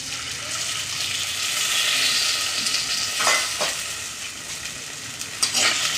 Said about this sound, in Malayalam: പാത്രത്തിൽ കുറച്ച് വെള്ളം ഒഴിച്ച് നേരത്തെ വെച്ചിട്ടുണ്ട് ആ വെള്ളം കുറച്ച് ചേർത്ത് കൊടുക്കാം